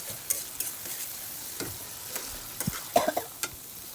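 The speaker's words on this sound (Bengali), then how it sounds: "সব মশলা দিয়ে কষিয়ে নেব ভালো করে মশলাটা।" Ground chili and coriander powder fry in oil in a pan with a soft, constant sizzle, while a spatula scrapes and clinks against the pan in short bursts.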